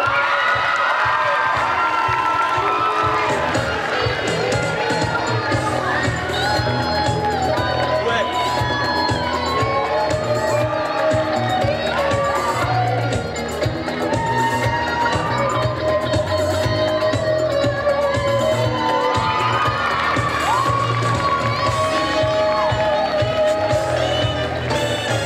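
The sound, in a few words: audience applause and cheering at cosplay parade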